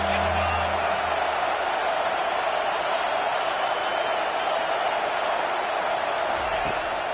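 Home crowd at an LSU football stadium roars in a loud, sustained wash of cheering that covers the whole stretch, while a commentator talks over it.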